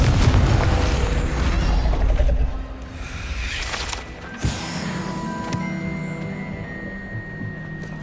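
Casting the Confringo fire spell in Hogwarts Legacy on PS5 sets off a loud explosive blast that rumbles and fades, followed by a sharp burst and scattered magical chimes and tones.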